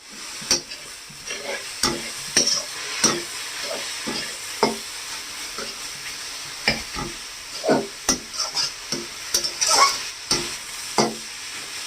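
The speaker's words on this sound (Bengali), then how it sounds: "আমি গাজরটা একটু হালকা করে ভেজে নেব" Carrots frying lightly in ghee in a pan for gajar halwa, with a steady soft sizzle under repeated scraping stir strokes that clatter irregularly throughout, close and moderately loud, no talking.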